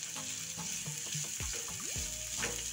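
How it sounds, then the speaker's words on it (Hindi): Finely chopped onions sautéing in a pan for street-style cheesy masala Maggi, a soft steady sizzle with a few scraping and clinking sounds of a utensil, close up and without talk. "प्याज को थोड़ी देर भून लेंगे।"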